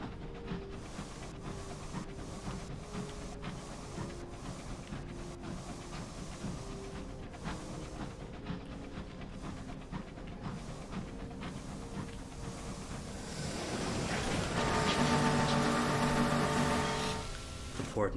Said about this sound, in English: Port noises are freaking me out